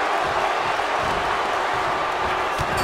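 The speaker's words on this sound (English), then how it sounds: "Listen to this crowd." Steady roar of an arena crowd during a WWE 2K24 tag-team wrestling match, a dense continuous wash of cheering that fills the whole clip with no clear peaks.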